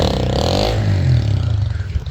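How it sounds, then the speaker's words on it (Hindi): A motorcycle rickshaw with a loud, dirty silencer passes close by in a South Punjab village, a harsh rattling engine roar that swells and then throbs away unevenly over about two seconds. "हमारे यहाँ दोस्तों जो मोटरसाइकिल रिक्शा है इनकी आवाज़ बहुत ज़्यादा ख़राब है।"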